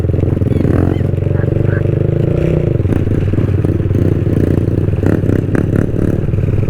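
A Kawasaki Z125 mini motorcycle with clutch and gears drones loudly and steadily while riding, a low continuous engine hum with clattering and wind, with a voice talking over it.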